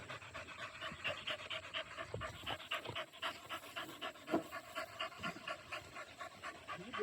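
A dog panting rapidly and rhythmically, close and fairly quiet, in a steady series of quick breaths across the whole stretch with no voices.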